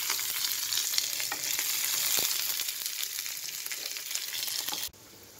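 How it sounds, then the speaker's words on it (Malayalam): Mustard seeds, curry leaves and dried chillies sizzling in hot oil, a close, dense crackling fry with scattered pops and a few utensil knocks, then cutting off abruptly near the end. "ഓയിലിലേക്ക് കുറച്ച് കടുക് ഇട്ട് കൊടുക്കാം"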